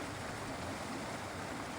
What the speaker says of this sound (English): listen to the river.